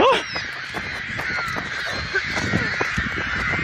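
A large flock of birds in a field, crows cawing and other birds honking loudly all around, dense overlapping calls with fluttering, one sharp shout at the start and faint voices mixed in.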